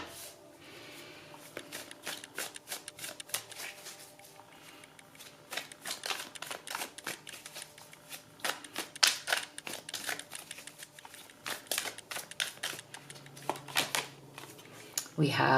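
Tarot and oracle cards are shuffled for a reading, a long run of quick crisp riffles and flutters close by, quiet overall and without talk.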